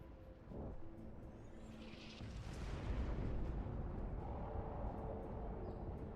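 A dense, rumbling roar of distant blasts and gunfire in a tabletop role-playing game sound effect, with a sharp crack early on, then sustained heavy booming that fills the space.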